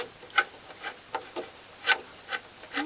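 The dial needle of an Astor BPJ valve radio scrapes against its housing in a series of short, dry rubbing strokes, about seven evenly spaced scratches, close and quiet.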